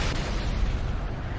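A grenade explosion in the game Halo 3 on the Legendary Crow's Nest mission, a loud, dense burst of low rumbling boom that fills the short moment without letting up.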